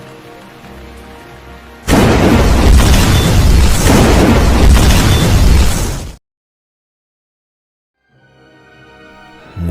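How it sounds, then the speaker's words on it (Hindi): Thunder clap sound effect in a horror story: a sudden loud, wide rumbling burst of thunder and rain that holds for about four seconds, then cuts to abrupt silence before faint rain returns. "इतने में जोर से बिजली चमकी और एक जोरदार धमाका हुआ"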